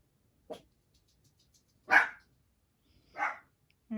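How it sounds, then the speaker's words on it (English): A dog barks in a quiet indoor room, four separate sharp barks spaced over a few seconds, moderately close, with near silence in between. "And there goes my dog, right on schedule."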